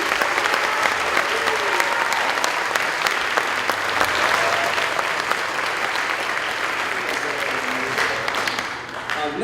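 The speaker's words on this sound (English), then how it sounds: "I think they deserve another round of applause." Loud, sustained applause from a concert audience at a high school band performance fills the hall, dense and steady throughout with no one speaking.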